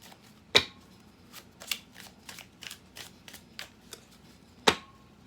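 A deck of tarot cards being shuffled close up, with a series of soft riffling flicks and two sharper snaps at the start and end, quiet and with no speech.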